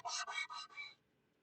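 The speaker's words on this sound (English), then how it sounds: "Now I'm going to take some sandpaper and rough up the edges," Sandpaper roughing up the edges of paper, four quick rasping strokes close up, then quiet.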